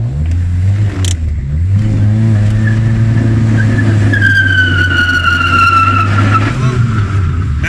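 A car driving along the road while the handbrake is yanked, tires skidding and squealing loudly over a steady engine drone, with a rising tonal screech building in the second half before easing off.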